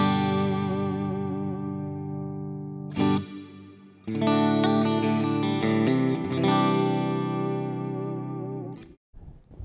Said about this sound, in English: You want to hear mod reverb? Here you go.